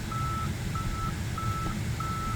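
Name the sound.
Tesla Model Y parking sensor beeping while reversing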